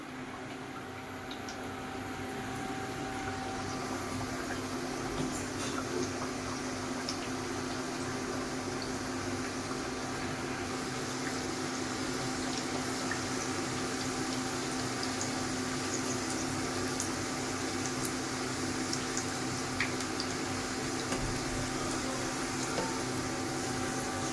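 Snack pieces deep-fry one by one in hot oil for a morning tea-time snack, making a steady, moderately faint bubbling hiss that runs evenly throughout with no voices.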